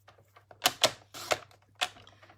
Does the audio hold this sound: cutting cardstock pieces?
yes